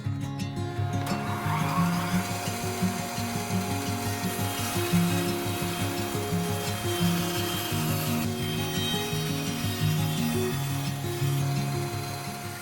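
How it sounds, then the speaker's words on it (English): Bandsaw rough-cutting thick wood boards over 2 inches thick for coffee table aprons, a continuous motor hum beneath a rasping, rhythmic cutting sound that rises and falls as the board feeds through, close and steady throughout. "I started laying out the apron pieces and then rough cutting them on the bandsaw."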